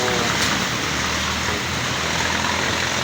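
Steady broadband hiss of rain falling, continuous and fairly loud, with a faint low rumble of passing traffic underneath.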